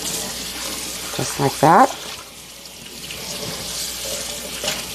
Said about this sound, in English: So now I'm going to rinse it out.